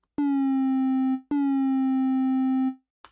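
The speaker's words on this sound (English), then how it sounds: "you apply a modulation envelope to the pitch using a super short pluck shape to move down 1 or 2 semitones" Two bright synth plucks, each with a quick downward pitch drop at the attack, then a held tone that fades; a faint click ends it.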